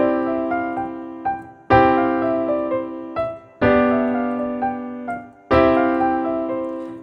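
An excerpt from Czerny's Op. 599 No. 12 played on piano, with heavy left-hand chords struck loudly in four strong phrases that bury the quieter right-hand melody. The notes ring close and clear, and no one speaks.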